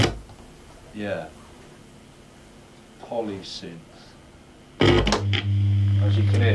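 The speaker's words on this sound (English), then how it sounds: "the other one is the polysynth, and this is the one that seems to have the problems" A Crumar Trilogy's polysynth section with a fault plays a few short, buzzy chord stabs, then a loud sustained chord with a hard attack that holds steadily to the end.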